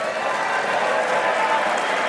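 A live audience at Tanglewood applauds steadily, a dense wash of clapping that holds evenly from start to finish.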